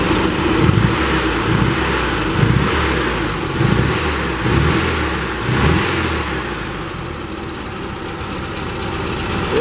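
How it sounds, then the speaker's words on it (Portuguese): A 1979 VW Brasilia with a recently serviced engine and carburetor revs loudly and close by, rising in about five rhythmic throttle blips over a rough idle before settling back to a steady idle. "Vou dar uma aceleradinha nela aqui"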